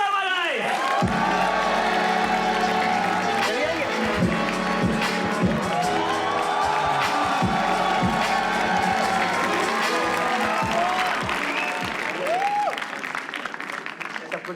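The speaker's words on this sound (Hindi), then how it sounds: "अगर आप लोग तालियां बजाएं और वेलकम करें" An audience at a live comedy roast show breaks into loud applause with cheering and whoops to welcome a performer, a dense sustained wall of clapping that runs throughout before easing slightly at the end.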